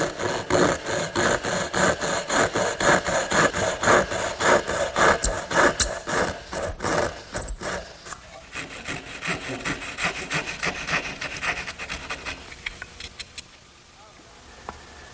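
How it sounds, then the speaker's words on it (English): A hand dovetail saw cuts into the wooden rail ends of a Shaker step stool, with steady rhythmic rasping push-pull strokes that are close and loud, then slower, lighter strokes and a fade near the end. "I think there's no easier way than to use the regular dovetailing saw"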